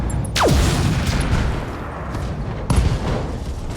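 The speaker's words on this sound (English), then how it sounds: "because of the internal explosion, that's what kills him." An internal ammo explosion tears apart a mech in BattleTech: a loud booming blast with a falling whistle, then a second heavy detonation, all over rumbling battle noise.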